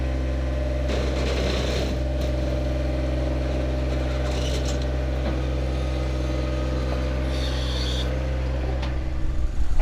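A John Deere 1025R tractor drives along with a steady low engine drone and hum, some rattles and brief higher clatters over the top, and a slight rise in rumble at the end.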